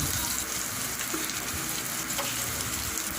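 Garlic sizzling and frying in hot oil in a pan, a steady close crackle and hiss that runs evenly throughout with no talk.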